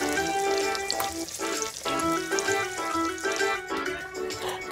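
Eggplant slices sizzle steadily as they fry in oil for eggplant parmigiana, with a dense, continuous crackle and occasional louder pops, close and alone.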